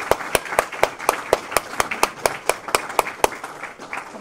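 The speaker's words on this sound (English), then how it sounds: "might be worth giving Matt and Cody and Ginny and all the other interns and Yinka, who has stood there all week videotaping us all, a huge round of applause" Thinning applause at the close of a writers' conference, a few hands clapping in an even, sharp rhythm, close and fairly loud, slowing near the end.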